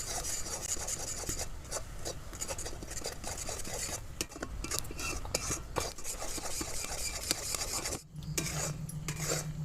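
A spoon scrapes steadily around a pan as milk is stirred into melted caramel, a continuous close rasping and rubbing with small clinks, fairly quiet and unbroken by talk.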